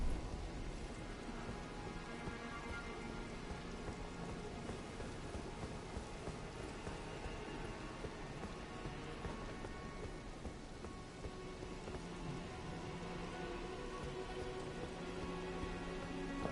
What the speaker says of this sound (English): See, it's raining, so I'm going to do a lot more damage here.